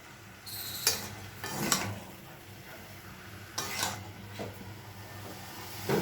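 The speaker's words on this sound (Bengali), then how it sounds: "একটু ভালো করে নেড়ে নিয়ে এটাকে কষিয়ে নিই" A spoon or spatula stirs shredded cabbage in a pan, giving scattered scraping and clinking strokes over a low, steady frying hiss, moderately close.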